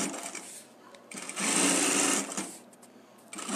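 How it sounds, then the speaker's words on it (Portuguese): A sewing machine runs a short finishing seam on fabric, a quiet whirring burst of rapid stitching lasting about a second, set between softer pauses with faint handling sounds. "aqui já vou bater essa costurinha de acabamento"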